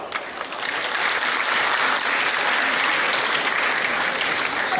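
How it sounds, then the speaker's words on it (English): A large audience at a university orientation and induction program applauds steadily as a student business club is welcomed on stage, a dense, loud wash of clapping that builds quickly and holds without talk. "with a big round of applause, let's welcome them on stage"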